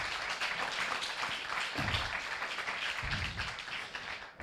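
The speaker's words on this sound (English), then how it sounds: "Big applause." Moderate audience applause fills the room with steady clapping, fairly soft and distant, with no voices over it.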